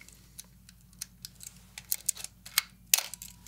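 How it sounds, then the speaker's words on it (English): Small ticks and clicks of an old film camera being wound by hand, irregular and close, getting denser and sharper toward the end over a low steady hum. "hand winding it,"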